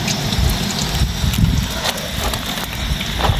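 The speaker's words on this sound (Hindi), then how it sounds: "ये पानी भी आ गया है।" Rainwater rushing into a campsite during a storm, a steady broadband wash of running water with a low churning rumble throughout, fairly loud and close.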